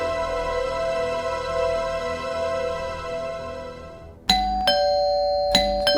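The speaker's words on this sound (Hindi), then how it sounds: "ऐसी घंटी तो सिर्फ मिन्नी बजाती है।" A doorbell chimes sharply, then rings again in quick succession, with bright sustained tones ringing out after each press over a steady background hum.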